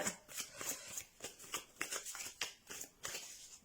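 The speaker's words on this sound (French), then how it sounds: "Et le dernier, je bats mes cartes." Close, soft riffling of a deck of cartomancy cards being shuffled by hand, repeated papery flutters and taps in an uneven rhythm, quiet and alone with no talk.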